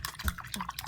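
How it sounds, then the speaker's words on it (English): Hair dye mixture being stirred in a bowl, giving a short, close, wet swishing with a few soft clinks. "I'm gonna stir it up."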